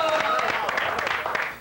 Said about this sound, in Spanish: ¡Buen aplauso!